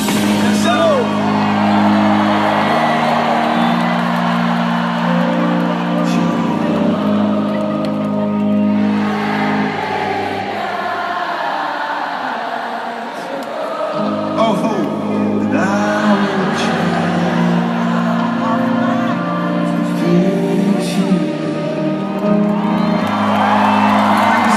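A concert crowd cheers and whoops in a loud, dense roar that holds for most of the stretch, dips briefly in the middle and then swells again, with shouts rising out of the noise.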